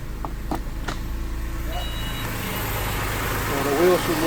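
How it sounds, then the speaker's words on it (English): A Porsche 997 engine idling steadily nearby during reverse gear selection, a low constant rumble with a few knocks early on and faint voices in the background. "So now we're gonna start the car up and make sure we have reverse and first gear."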